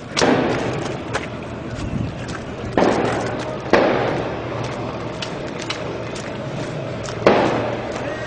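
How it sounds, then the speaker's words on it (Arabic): Sharp, loud reports of random gunfire from army armored vehicles in Houla, Syria, in November 2011, with four distinct bangs spaced irregularly over a rumbling background. "اطلاق نار عشوائي"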